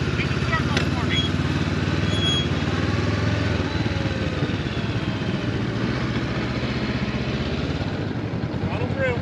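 Police training motorcycle revving steadily while riding practice circles on an outdoor course, the engine drone continuous and fairly loud throughout, with an instructor's voice calling out over it.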